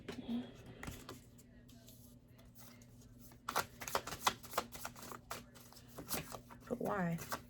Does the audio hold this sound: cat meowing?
no